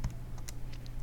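Keys on a calculator are tapped in quick, light clicks, several presses within a second, close and fairly quiet against a low background hum.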